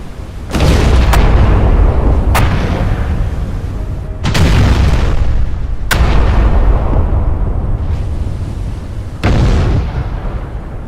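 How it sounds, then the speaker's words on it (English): Scharnhorst battleship guns firing broadside in a naval combat game, several loud booming salvos with sharp cracks, each trailing into a long rumbling roar before the next shot. "Let's turn broadside here. I want to open up all these guns."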